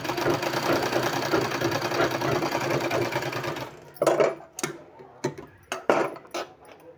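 A sewing machine running steadily with a dense, fast mechanical whir while stitching a palazzo pant, then stopping and giving way to a few short separate clicks and knocks, close and clear.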